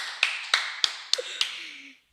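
Five single hand claps land about a third of a second apart, crisp but fairly quiet, each ringing briefly in a small room. No other voices or noise are heard.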